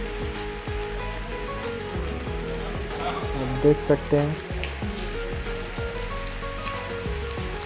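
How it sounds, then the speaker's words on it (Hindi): Rain falls steadily under dark gathering clouds, a dense, constant hiss and patter, while someone talks over it and a few brief clicks stand out partway through. "बारिश आ ही गई जिसकी आशंका थी"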